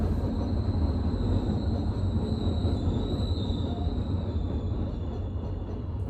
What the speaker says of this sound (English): And that train is really interrupting me right now.